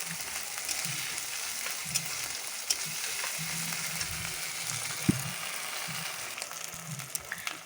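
Ginger and cumin spice paste frying in oil in a home kitchen, a steady close sizzle with occasional clicks and scrapes of a spoon stirring it, no voices.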